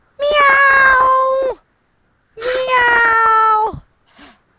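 A human voice imitates a cat with two long, drawn-out, whiny meows at close range, separated by a pause, then a short faint squeak at the end.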